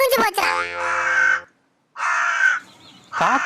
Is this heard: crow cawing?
yes